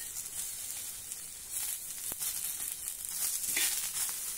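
A large onion dry-roasting on a hot griddle with no oil: a faint, steady crackling sizzle with soft hissing, continuous and close, with no voices.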